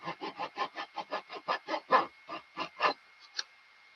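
A blade rubs wood sheeting on a model in a sanding action: a quick run of rhythmic scraping strokes that spread out and fade toward the end, close up with no voices.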